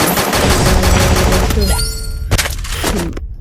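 Rapid gunfire in a video game bursts loudly in a dense volley, followed by a few sharp isolated shots and cracks as it thins out near the end.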